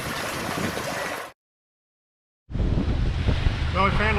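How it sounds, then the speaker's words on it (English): Wind rushing at sea aboard a sailboat in just under 20 knots, steady broadband roar with water wash, cut by a gap of silence before returning louder with gusty buffeting. "we found a little wind. It's up around, about just under 20 knots now, coming off our port side."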